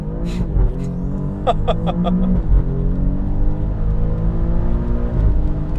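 An Alfa Romeo Giulia Quadrifoglio launches from a brake-boost start in automatic mode, its engine surging loudly up the revs through quick gear changes, heard close from inside the car.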